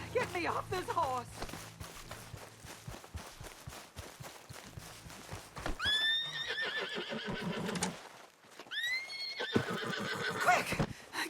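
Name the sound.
horse neighing in video game Red Dead Redemption 2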